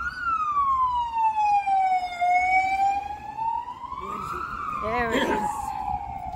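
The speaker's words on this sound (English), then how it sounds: "Ambulance. This hospital is close here." An ambulance siren passes on a busy city street near a hospital in Australia, a loud wailing tone sweeping down and back up over steady traffic noise, with brief talk near the end.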